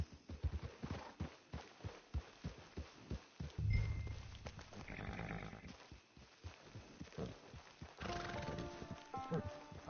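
Rhythmic video game hoofbeats from Red Dead Redemption 2 pound along at a quick pace, joined by a horse's whinny and snorts, with a voice speaking over part of it.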